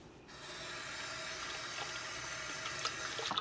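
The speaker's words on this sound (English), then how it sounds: "I'm actually going to rinse this container." Tap water runs steadily into a sink while rinsing a food container, a continuous close splashing hiss that starts abruptly and carries on throughout.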